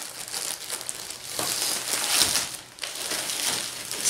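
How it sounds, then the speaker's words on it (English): Plastic bag crinkling and rustling continuously up close while a Dreamer Designs spring kit is unboxed, with a brief dip midway before the crackling resumes. "And this is kept in a plastic bag itself."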